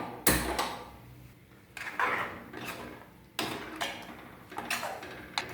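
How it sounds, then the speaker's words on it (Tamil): Sharp, irregular clicks from a gas stove igniter repeat several times, fairly faint and close by, with nothing else in between. "இப்போ நம்ம அடுப்பை பற்ற வச்சுக்கலாம்."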